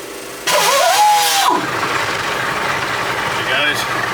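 A Mack R600 truck engine, its starter motor freshly rebuilt, cranks briefly and catches, then settles into a steady, loud idle close by.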